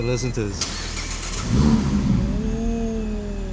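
A Mazda Miata's engine cranks and fires up, then revs with a loud swell and settles into a rising hum, heard close up after brief talk at the start.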